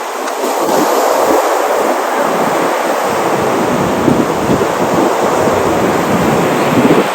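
Sea waves washing onto the shore at a Chennai beach, a loud continuous roar of surf with low rumbling swells, heard alone without voices.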